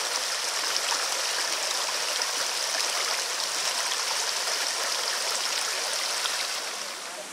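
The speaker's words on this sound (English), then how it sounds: "and enjoy this stream." A small creek fed by springs in Chickasaw National Recreation Area, Oklahoma, flowing steadily with a continuous broad rushing and babbling, close and even throughout before easing slightly at the end.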